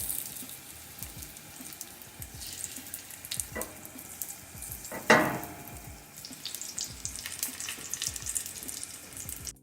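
Walnut-crusted goat cheese fries in a pan of hot vegetable oil, giving a steady, fairly faint crackling sizzle with scattered pops and one brief louder flare midway.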